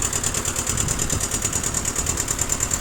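A Japanese Kubota B6000 4WD mini tractor, fitted with a rotary tiller and PTO, runs steadily with an even, slightly rough engine drone and a constant high whine, heard alone at close range.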